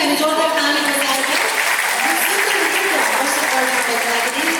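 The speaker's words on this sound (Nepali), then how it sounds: "एकचोटि फेरि पनि हामी जोरदार ताली बजाएर" A large audience at a Bible Society golden jubilee celebration gives a dance group sustained, loud applause, a thick continuous roar of clapping with a few voices mixed in.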